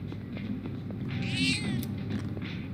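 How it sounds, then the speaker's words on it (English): A cat meows inside the Persona 3 Reload video game, a single soft call standing out over steady game background sound. "I wish I could feed the kitty."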